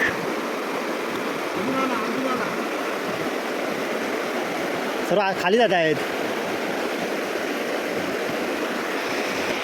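River water rushes with full force past a small dam of wooden stakes built for fishing, a loud steady broadband roar throughout, with a person speaking briefly over it midway.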